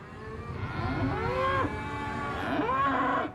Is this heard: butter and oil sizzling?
no